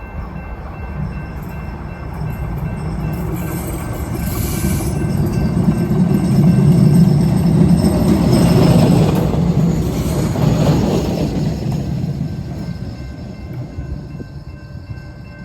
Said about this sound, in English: a high floor train running past the low platform